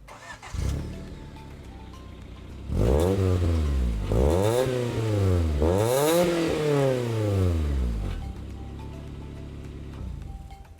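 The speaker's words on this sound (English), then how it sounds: "if you did hear an exhaust leak, there you go" Stanced Honda Civic engine with an exhaust leak starting and revving: a short crank, a steady idle, then several rising and falling rev sweeps over about five seconds before settling back to a rough idle, close and loud.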